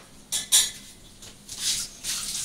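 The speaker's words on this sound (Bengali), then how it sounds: "শাকে একটু রসুন ফোড়ন দেবো, তাই রসুনটা থেতো করে নিচ্ছি" Garlic being crushed for a tempering, several close, brief pounding or pressing knocks in an irregular rhythm, fairly quiet with no talking.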